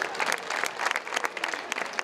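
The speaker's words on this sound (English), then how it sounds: "Give it a round of applause for that." Lively, close clapping from a crowd at a Black History celebration event, brisk overlapping claps filling the short moment.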